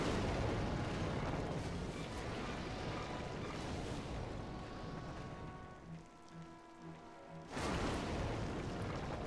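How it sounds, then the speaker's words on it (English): Fire bombs bursting against a boss in Demon's Souls, a loud crackling roar of flames and impacts that fades, leaving a few soft muffled thuds before another loud burst. "I'm just gonna throw fire bombs at him"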